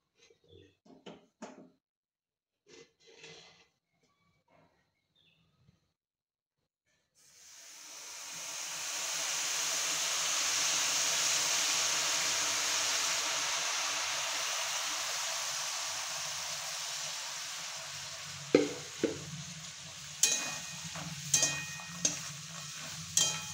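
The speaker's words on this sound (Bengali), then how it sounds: "এবার এর মধ্যে আমি গুড়টা দিয়ে দেবো।" Fried makhana with jaggery in a pan: after a few quiet clicks, a loud steady sizzle and hiss rises and holds, later broken by sharp clattering knocks of stirring against the pan.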